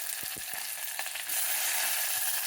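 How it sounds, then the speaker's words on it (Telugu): Ginger, garlic, onions and green chillies frying in a pan, a loud, steady sizzle close up with a few soft stirring knocks, the hiss growing fuller partway through. "కరెక్ట్గా ముందుగా వేయించుకోవాలి"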